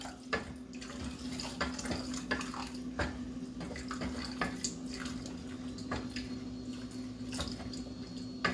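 Hot water poured into a cooking pan that already holds butter, a steady close watery pour and splash running throughout, with faint clinks of cookware and no talking.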